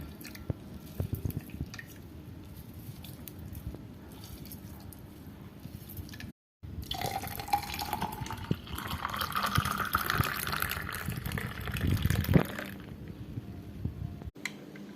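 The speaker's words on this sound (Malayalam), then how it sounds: "ഇനി ഒരു മുറി നാരങ്ങ പിഴിഞ്ഞൊഴിക്കാം" Half a lemon squeezed into strained grape juice sweetened with sugar, with soft squishing and dripping sounds, faint and close, building to a short liquid trickle before stopping.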